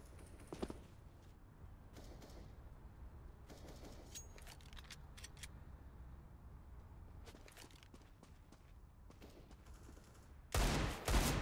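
Rapid pistol shots from a CZ handgun in the game Counter-Strike on the Overpass map, sharp taps in a few clustered bursts over quiet background, with a louder burst at the very end.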